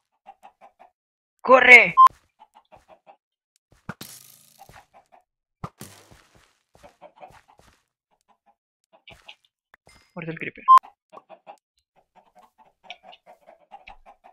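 Chickens cluck in short, soft, scattered bursts in the Minecraft video game, with someone speaking Spanish loudly twice over them and a few sharp game clicks between.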